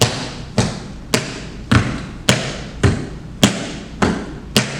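Crisp tap dance steps strike in a steady, even rhythm, toe and heel taps sounding close and clear, about two per second.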